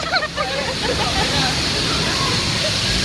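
Cavinti Falls thunders close by in a steady, dense roar of falling water that fills the whole clip, with excited voices and shouts rising over the rush.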